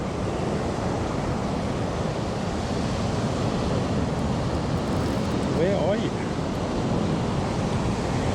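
Surf washes onto the shore at Scottburgh in a constant roar with wind noise on the microphone, while someone speaks briefly over it during shore fishing.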